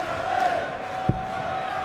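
Darts crowd at the 2013 World Darts Championship semi-final, Taylor versus van Barneveld, chants in support of a player, a distant sustained roar of many voices with one brief thud midway.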